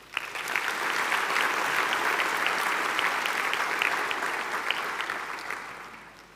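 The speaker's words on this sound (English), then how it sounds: "Please give our choir a huge round of applause." Graduation ceremony audience at a university campus applauds the choir: crisp, dense clapping swells quickly, holds strong and loud, then tapers off at the end.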